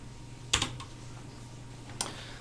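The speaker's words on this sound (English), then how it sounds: "what I'm going to do here first is just go ahead and type in ifconfig" A computer keyboard is typed on in two short bursts of quick clicking keystrokes, close and fairly quiet, with no talk.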